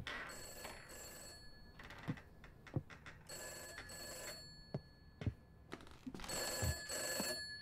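A telephone rings repeatedly inside the haunted house of the horror video game Summer of '58, its bell bursts sounding in an irregular pattern over a low, eerie ambient background, with no talking.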